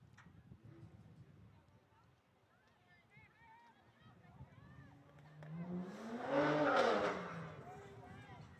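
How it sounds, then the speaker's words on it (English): Racing cars in the distance on a summer day, heard from a soccer field, a faint engine whine that rises and swells into a louder passing roar before fading, with voices talking underneath. "You can hear the sounds of racing cars off in the distance there, Steve."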